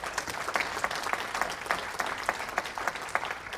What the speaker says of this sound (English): We should applaud you for that, Janet, as well.